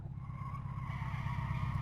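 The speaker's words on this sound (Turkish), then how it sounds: "Bir de geri geri yanlayalım." A Golf car in Live for Speed drifts backwards with tires skidding, a steady, close screech over a droning engine for under two seconds.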